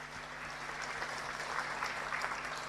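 Applause rises for the speakers at an academic conference keynote session as a dense, even patter of many hands clapping, moderately faint and sustained, with no voices over it.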